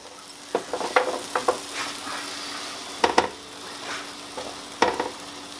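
Big portobello mushrooms and a red pepper frying in a pan, with a soft steady sizzle broken by scattered clacks and scrapes as the pieces are moved about, close and moderately quiet.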